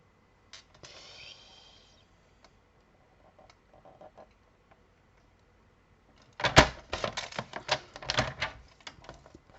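Scissors snip through a paper card for a multi-pocket card craft: a few faint cuts early on, then a dense run of sharp, close snipping and paper crackle toward the end.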